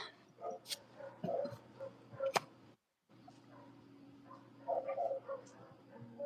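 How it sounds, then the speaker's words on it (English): Several dogs bark intermittently in the distance, sharp yips standing out over a low steady background hum, with a brief silent gap midway. "I don't know if y'all can hear the dogs. They're so loud."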